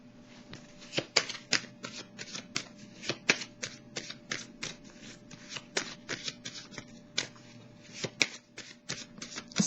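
Tarot cards are shuffled to draw another card, giving a quick, close run of crisp riffling slaps and flicks that repeat steadily for several seconds.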